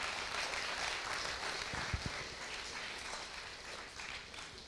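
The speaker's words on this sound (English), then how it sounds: "Give yourself a round of applause" Conference audience at an inclusion day event applauding, a steady wash of clapping from many hands, moderately distant and sustained throughout with a few sharper nearby claps.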